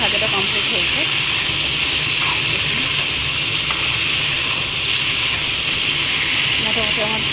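Cauliflower and potatoes fry in a kadai with a loud, steady hiss and sizzle that runs unbroken throughout, with faint voice traces near the start and end.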